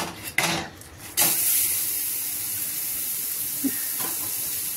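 Milk cream cooking on a medium gas flame for ghee, stirred continuously: a steady bright hiss and sizzle holds throughout, preceded by a few scraping stirs and a soft clunk.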